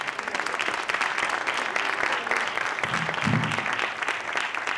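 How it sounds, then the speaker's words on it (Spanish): Applause from an audience at an award and tribute ceremony for Santiago Ramón y Cajal at the Museo Cajal, a steady, dense clapping that fills the hall throughout, with a low murmur swelling briefly near the end. "Un aplauso para ellos, por favor."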